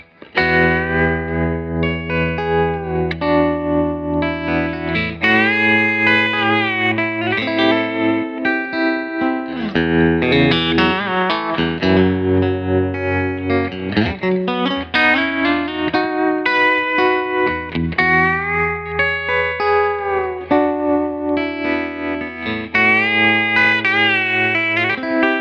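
Electric guitar played through a Bad Cat Jet Black amp with reverb and a slow tremolo, loud sustained chords and melodic runs ringing with a wet, echoing tail throughout, no talking.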